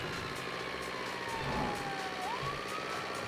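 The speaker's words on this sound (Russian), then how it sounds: "А можно включить, в принципе, мигалочки, сирену можно включить." A wailing emergency siren from the car game Traffic Racer sweeps up and down over a low engine drone, steady and moderately loud throughout.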